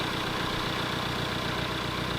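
Tractor engine idling up close, a steady, even rumbling drone that holds unchanged throughout with no talk.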